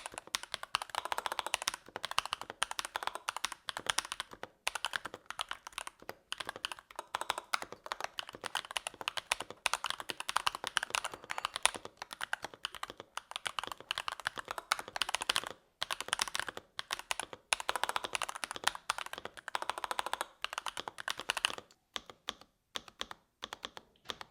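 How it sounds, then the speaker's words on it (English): Steady, continuous NuPhy Halo96 mechanical keyboard typing, dense clacky keystrokes close to the mic for about twenty seconds with a few brief pauses, no talking. "You probably want some sort of sound or typing test."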